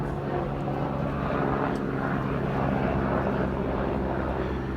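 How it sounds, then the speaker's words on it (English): A steady, droning helicopter engine hum with a faint rotor throb passes overhead, fairly loud and continuous, with no talking. "I'll just wait for the helicopter to go over the top."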